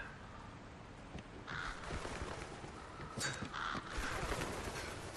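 Crows caw repeatedly in a video game corridor, harsh calls coming in clusters over a low ambient background, with several birds overlapping at moderate distance.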